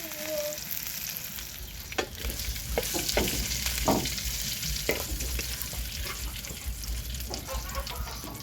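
Crickets deep-frying in hot oil make a continuous bubbling sizzle, with occasional sharp stirring clatters and scrapes in the foreground and a chicken clucking faintly in the background.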